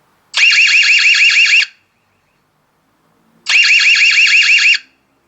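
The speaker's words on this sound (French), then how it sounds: "Et si tu pars pas, je te mets l'alarme." Two identical bursts of a loud electronic warbling siren from an EZVIZ C3X outdoor security camera, each lasting about a second and a half, separated by a short silence.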